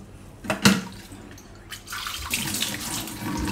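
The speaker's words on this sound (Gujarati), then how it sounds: "આમાં આપણે થોડું થોડું પાણી નાખતા જાઉં ને લોટ બાંધી લેવું" Water is poured little by little into maida flour in a home kitchen to knead farsi puri dough, a soft splashing trickle after a sharp knock, with no talking.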